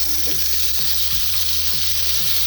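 Ground masala paste for egg curry hits hot oil and fries with a loud, steady, close sizzle, overlaid with a few scraping stirs and clicks of a spoon against the pan.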